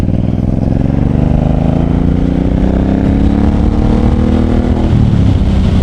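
A 2012 Suzuki M109R motorcycle engine revs steadily under the throttle, a loud, close, continuous rumble that rises in pitch and then drops back near the end, with no voices.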